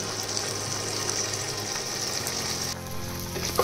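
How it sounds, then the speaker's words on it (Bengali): Paneer pieces fry lightly in hot oil, a steady moderate sizzle close by with a faint low hum underneath and a slight drop in intensity near the end. "এবার পনিরগুলো আমি দিয়ে হালকা করে ভেজে নেব।"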